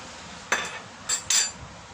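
Three or four quick clinks of cutlery against dishes over a low background hum, close by and sharp.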